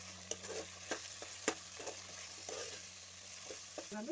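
Capsicum curry sizzles softly in a pan as spices are stirred in. Quiet, steady frying is punctuated by a few sharp spoon taps and scrapes against the vessel, with no talking.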